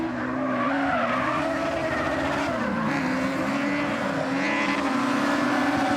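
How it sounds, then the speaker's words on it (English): Crosscar junior race cars roar continuously around a dirt track with high-revving engines and tire skidding, loud and close throughout a final-lap finish. "Let's have a look if you can see when they land over the jump before Nordstrand dives into the joker on this final lap"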